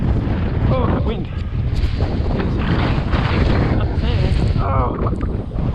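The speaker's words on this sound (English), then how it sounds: "Oh, the wind." Strong gusting wind buffets the microphone steadily throughout while a runner walks on an outdoor trail at Wilsons Promontory, with rough low rumble and a few brief vocal sounds in between.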